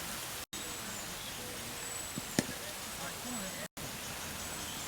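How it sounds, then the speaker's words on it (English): Heavy rain pouring onto a cricket ground makes a steady, soft, even hiss throughout, fairly faint, with a couple of brief small knocks partway through. "the rain's really coming down now, viewer"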